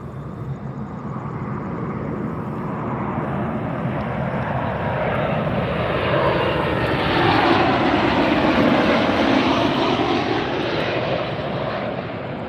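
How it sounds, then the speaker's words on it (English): A United airliner arrives at Las Vegas airport, its jet engine roar swelling steadily from moderately distant to loud and close as the plane passes overhead, with a rising and falling sweep and no talking. "we have a United flight coming in."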